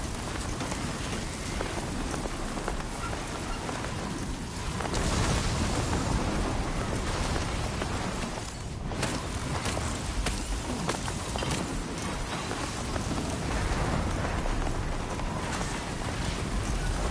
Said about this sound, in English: Can this storm stop anytime soon?